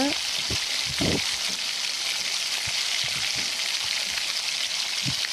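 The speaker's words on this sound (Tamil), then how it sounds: "வெங்காயம் நல்லா பொன்னிறமாக வதக்கிற வரைக்கும் நல்லா வதங்கிக்கோங்க" Onions sauté in groundnut oil until golden, giving a steady bright sizzle with occasional small pops and stirring knocks throughout.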